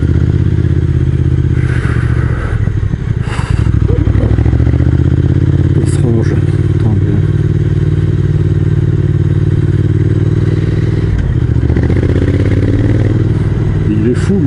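A Triumph Speed Twin motorcycle climbs tight hairpin bends on a mountain road near Entremont, its loud, close engine droning and shifting steadily with wind rumble while the rider talks in French.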